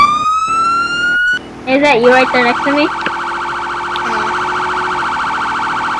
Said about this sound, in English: Someone has their sirens on near fitness.